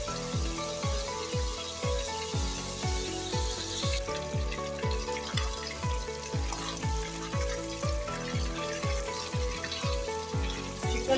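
Chicken pieces fry in a karahi for Afghani karahi, a steady close sizzle with a regular beat of clattering strikes, as if the pieces are being turned or stirred, running throughout.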